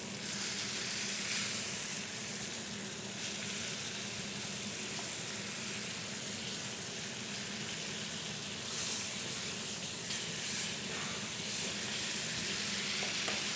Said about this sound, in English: let's go back here and continue searing on all sides